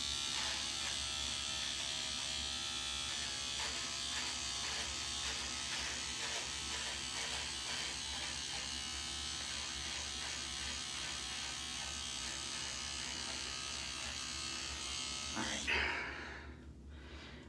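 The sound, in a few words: electric trimmer trimming beard edge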